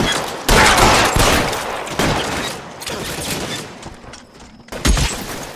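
Bursts of gunfire in the crime video game L.A. Noire, a loud, dense fusillade of overlapping shots that keeps surging and easing, with heavier volleys near the start and again at the end.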